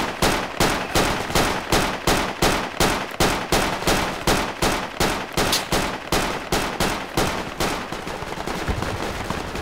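Sustained automatic gunfire from the military shooter game Project Reality v1.31, loud evenly spaced bursts pounding steadily for nearly ten seconds before thinning into a rougher, noisier stretch at the end.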